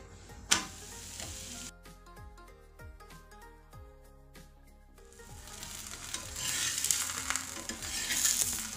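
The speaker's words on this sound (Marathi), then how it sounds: "तव्याला थोडं तेल लावून घेतलेलं आहे आणि आता पराठा टाकायचा" Methi paratha dropped onto an oiled tawa gives a sharp slap, then a soft, close sizzle of frying dough with a few scraping touches that grows fuller toward the end, no voices.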